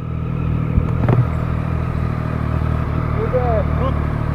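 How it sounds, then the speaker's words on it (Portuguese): A B-King naked motorcycle's engine holds a steady, close, low drone with a brief rise near the start, while voices talk over it. "É um canhão essa moto, velho, é um canhão."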